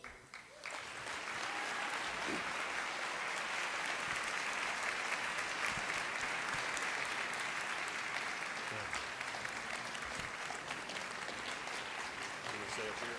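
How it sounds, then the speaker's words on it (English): A large audience applauds steadily and loudly after the San Antonio mayor's State of the City address, a dense unbroken wash of clapping that swells in and holds, with faint voices mixed underneath. "Pretty sure they're clapping for you, not me"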